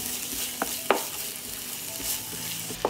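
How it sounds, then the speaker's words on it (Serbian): Garlic and onion frying in two spoons of melted homemade pork lard in a pan, a steady soft sizzle with a few sharp clicks and scrapes of stirring, close and fairly quiet, no talk. "Mast se ugrejala i dodat ću crni i beli luk i propržit ću."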